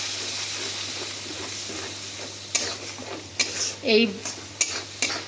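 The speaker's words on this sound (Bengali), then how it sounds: "মশলাটাকে এবার আমরা হালকা একটু ভেজে নিচ্ছি" A ground mustard spice paste for a small puti fish curry fries in a pan with a steady sizzle, punctuated by sharp metal clinks and scrapes of a spatula stirring; a voice briefly speaks.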